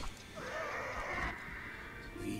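A horse neighs loudly in a single shrill, wavering whinny from the real-time strategy game Age of Empires 2 Definitive Edition, heard close and clear over low game ambience.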